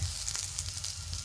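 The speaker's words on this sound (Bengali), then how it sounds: "খুব বেশি ভাজবো না পেঁয়াজটা" Onions sizzle steadily as they fry in a pan, a close, continuous crackling hiss with no talking, part of making a bottle-gourd peel mash with lentil wadis.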